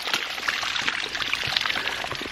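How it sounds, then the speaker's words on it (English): Water spills and splashes steadily as it overflows at a 3/4 inch ram pump installation on a hog farm, a loud, close, continuous pouring and trickling with no speech. "we've got overflow up top and we have overflow here"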